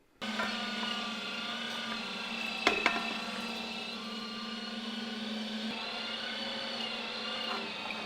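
An electric meat grinder works sausage meat with a steady, fairly quiet motor hum and whir that starts abruptly and runs evenly, with a couple of brief clicks partway through.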